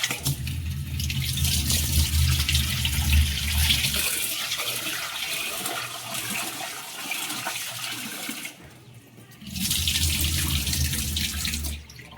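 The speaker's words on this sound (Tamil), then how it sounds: "நல்லா கழுவிக்கிறோம். ஒரு 2 முறை கழுவிட்டு ஊற வைப்போம்." Soaked chana dal rinsed under a running kitchen tap: a steady, fairly loud rush of water with a brief break near the end before the flow resumes. No one speaks.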